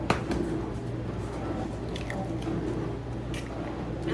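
Three eggs go into a five-pound ground beef mixture with soft, faint wet squishing and sticky squelches, close by with no talking.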